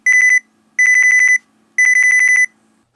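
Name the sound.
annoying beep shutter sound option on a Nikon camera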